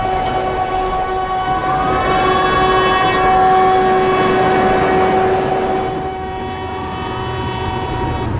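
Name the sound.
train on narrow-gauge mountain railway in Himachal Pradesh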